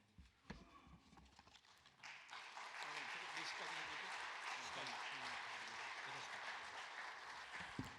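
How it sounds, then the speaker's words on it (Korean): A lecture audience starts clapping to welcome a speaker, building quickly into sustained, loud applause that holds steady, with faint voices underneath. "나오실 때 큰 박수 부탁드립니다."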